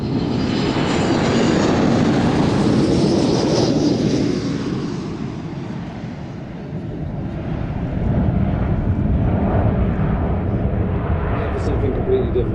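Aircraft engine drone from a fixed-wing plane flying in at an airshow, loud and sustained, easing slightly mid-clip then building again, with crowd or commentary voices faintly underneath.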